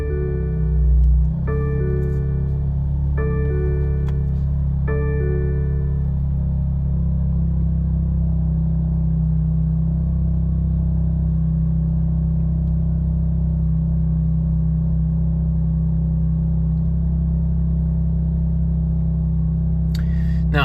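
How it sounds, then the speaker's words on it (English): A 2020 BMW F87 M2 CS heard from inside the cabin on a cold start, settling into a loud, steady low rumble of high idle with a few chimes early on. "I'm gonna do a cold startup on 2020 F87 M2 CS."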